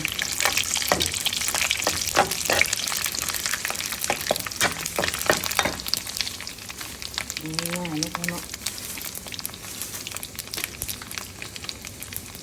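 Squid frying in hot oil gives a loud, steady crackling sizzle with scattered pops and clinks, close up, while a voice briefly sounds partway through.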